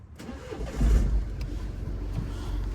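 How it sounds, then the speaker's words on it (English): A Mini BMW engine with a MAP sensor fault cranks and fires up, then settles into a steady idle, close and moderately loud with no talk. "So what we can do, we'll start the car up."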